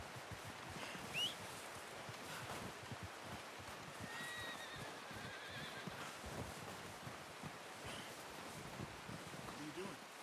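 A horse whinnies a few times at moderate distance over rustling, breezy outdoor noise and soft hoof movement, with a person speaking quietly.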